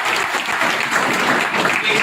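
Audience applause fills the short clip with a continuous, dense clapping that stays close and steady for about two seconds, with no pause.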